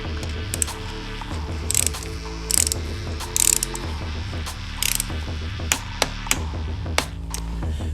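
A ratchet wrench tightens the foot peg bolts on a BMW R1100RT motorcycle, giving a steady run of close, rapid clicking that continues throughout, with a few sharper metallic knocks mixed in and no talking.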